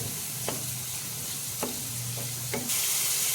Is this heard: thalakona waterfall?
no